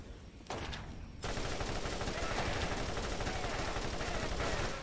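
Rapid automatic gunfire from a player's gun in Borderlands Remastered, a brief burst then a dense, continuous rattle of shots at steady volume.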